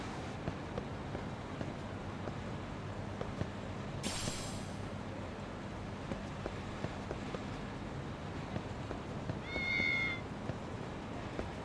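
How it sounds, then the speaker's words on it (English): A cat meows in the video game Lost Judgment, a short high-pitched call near the end heard over a steady game backdrop with a brief hissing burst earlier. "Oh, there's a cat."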